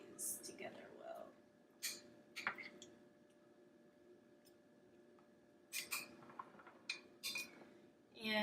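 Keto pizza ingredients are stirred together in a bowl, giving quiet scraping and clinking spoon-on-bowl taps in short bursts over a low steady hum.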